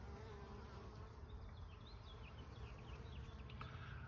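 Honey bees in a spring bee yard, bringing in pollen, buzz in a steady, busy drone, many insects close by with individual wingbeats rising and falling over a constant hum.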